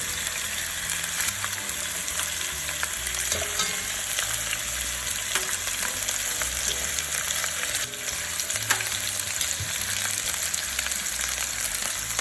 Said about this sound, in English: now we are going to put our oxtail in. And we want to sear both sides nice and golden brown